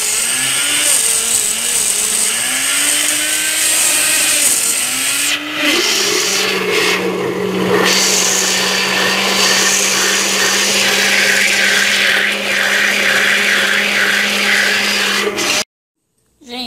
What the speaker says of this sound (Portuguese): Agora eu vou colocar ele no liquidificador e vou bater todo ele.